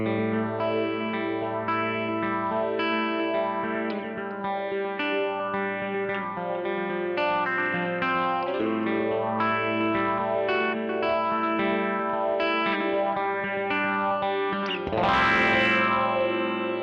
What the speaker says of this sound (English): Then I like combining that with the phaser in Mod Select 2